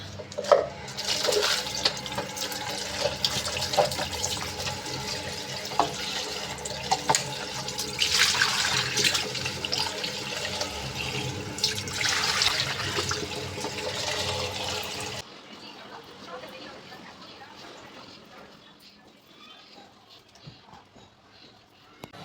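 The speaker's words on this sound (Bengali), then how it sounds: "প্যানটা একটু পানি দিয়ে তারপর হচ্ছে গিয়ে একটু গোসল করিয়ে দেবো" Running water splashes and gushes into a metal pan for about fifteen seconds as it is rinsed in a kitchen, then stops, leaving quiet background noise.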